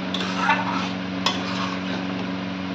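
Water being stirred into leftover egg tarka residue at the bottom of a pressure cooker, soft swishing and scraping over a steady low hum, with a couple of light utensil taps, close, with no voices.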